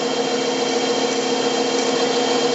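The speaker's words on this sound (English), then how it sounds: "It's just a drill chuck that I made a handle for, and it's neat for making little holes like that." A hand-held drill chuck fitted with a handle bores a quarter-inch hole in wood, giving a steady, unbroken whirring grind that stays loud and close throughout.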